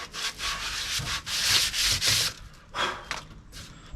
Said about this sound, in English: It's just giving it a little bit of a rub over.